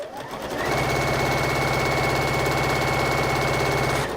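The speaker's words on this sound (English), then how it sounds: "we are going to be sewing through quite a few layers in a little bit" A sewing machine stitching through several layers of pin-tucked fabric, running at a fast, steady mechanical whir after a brief start, loud and close, with no talk over it until it stops.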